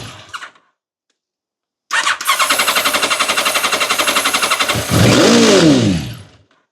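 A 1989 Kawasaki ZX-10 motorcycle engine, long neglected, cranks on its starter in a fast, even pulsing rhythm, then fires and runs roughly with a rising, revving roar before cutting out. It is loud and close, with no talking.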